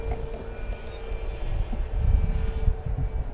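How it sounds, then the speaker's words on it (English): An E-flite Draco 2.0 RC airplane flying at about half throttle, its motor giving a steady tonal whine and propeller drone over gusty wind rumble, sustained and fairly near. "I'm at about a half throttle right here, Steve."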